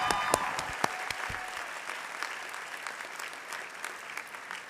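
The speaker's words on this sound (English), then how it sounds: "show them your appreciation through your applause" Graduates at a spring convocation for a School of Health Sciences applaud their families, a crowd's brisk clapping with a few sharp nearby claps at first, easing slightly toward the end.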